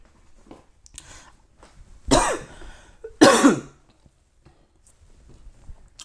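Two harsh, close coughs a second apart from a host on a live sports talk show, with faint room noise before and after.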